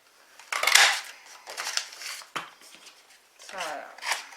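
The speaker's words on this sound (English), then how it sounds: "So let's cut that piece off so that I've got the right angle again." Scissors cutting a corner off a piece of cardstock during papercraft, several crisp snipping bursts separated by short pauses, close and fairly quiet, with no voice heard.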